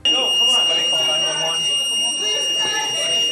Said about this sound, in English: As alarms went off in the courtroom,